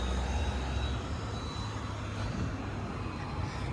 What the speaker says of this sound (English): Now this bus is going to Victoria Park in Eglinton.